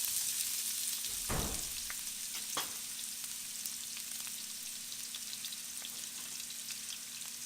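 Onions frying in a pan as the first step of Filipino fried rice, giving a steady soft sizzle throughout with a louder stir or clatter near the start and a few faint clicks.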